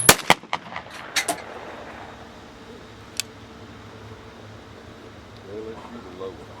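Shotgun blasts at clay targets outdoors, several sharp loud reports packed into the opening second with another single shot a few seconds later, then a quiet stretch with faint ambient noise.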